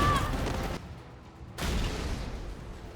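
Shrek as Nemesis fires a heat-seeking rocket launcher in Resident Evil 3, a loud broadband blast with rumbling tail, a brief lull, then a second heavy boom and rolling roar.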